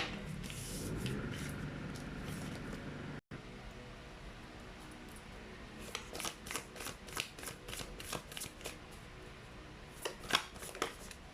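Tarot cards are shuffled up close in a quiet room: a long rustle, then a pause, then quick repeated riffling flicks, all soft and with no talking.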